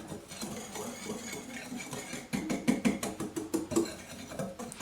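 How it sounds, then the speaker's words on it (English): A wire whisk breaking up clumps in a bowl of dry cocoa, sugar and carrot powder for homemade instant hot chocolate: soft scraping at first, then a quick run of close, rhythmic metallic clicks and taps. "Just going to break that up with my whisk."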